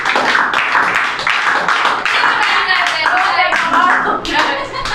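Students clap their hands together in a classroom, a dense, sustained burst of many hands that only loosely locks into a shared counted rhythm, with voices mixed into the clapping.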